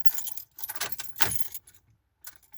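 Car keys jangle in the ignition of a car with electrical issues and a dead battery. The metallic rattling comes in several close, loud bursts, followed by a fainter jingle after a pause.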